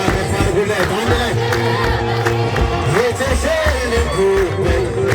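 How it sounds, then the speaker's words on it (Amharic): Ethiopian church congregation ululating loudly and continuously during a hymn performance at St. Stephen's church in Negele Arsi, the high trilling cries swelling together over singing and crowd noise for the whole stretch. "እልልታ ከፍ አድርጉለት አንድ ላይ"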